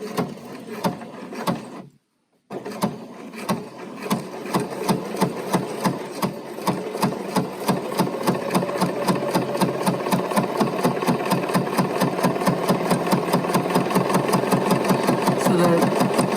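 A Bernina sewing machine runs close by while stitching a gather, its rapid, even mechanical chatter pausing briefly near the start, then resuming and steadily speeding up into a dense, regular hum of needle strokes.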